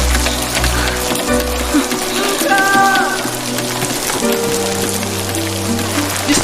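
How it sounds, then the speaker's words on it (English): Rain falls in a scene from the animated film Luca, a steady wash of patter that runs the whole clip beneath a musical score and voices. "Afraid of a little rain?"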